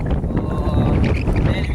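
Wind gusts over a Gujarat village during a spell of heavy rain, heard as a short, close, low buffeting rumble against the microphone.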